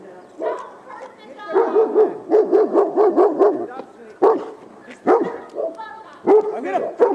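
A German shepherd barks loudly and close in rapid bursts, with yips and whimpers between them, while people shout over the barking during a police encounter.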